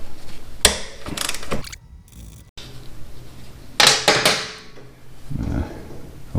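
Rapid ratchet clicking in several bursts loosening a rusty 12 mm pinch bolt on a 1983 Honda Shadow 750 motorcycle rear wheel, close and fairly loud, with quiet pauses between strokes and no talk.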